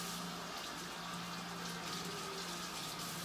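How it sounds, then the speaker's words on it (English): Tap water runs steadily at a kitchen sink while hands are washed, a soft continuous hiss and gush with a low pump-like hum, close and without talk. "I gotta wash my hands."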